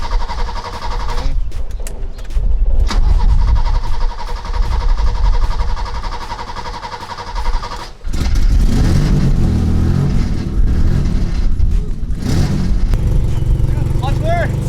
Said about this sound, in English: Oh yeah, this thing has a hard start issue.